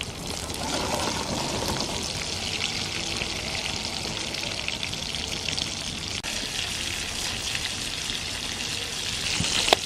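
Prawn cutlets sizzling on a flame barbecue grill in an Australian mixed seafood cook-up, a steady dense crackling hiss that holds evenly throughout, close and moderately loud.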